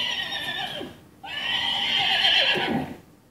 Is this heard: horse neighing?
yes